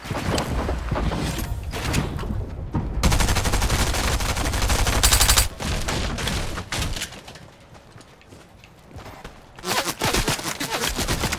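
Gunfire in the Fortnite video game crackles in rapid bursts and scattered shots, loud and dense with brief pauses between volleys.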